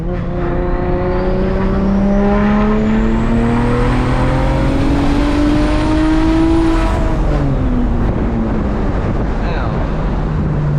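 Loud turbocharged engine of a single-turbo BMW 335is rising steadily in pitch as it accelerates, then dropping after a shift, with heavy wind rumble throughout.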